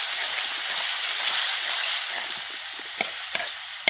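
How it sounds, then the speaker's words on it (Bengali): Cashew paste curry with water added bubbles and sizzles in a pan while being stirred, a continuous close frying hiss dotted with a few light scrapes and taps. "দিয়ে কাজু বাটাটার সঙ্গে নেড়ে চেড়ে ভালো করে,"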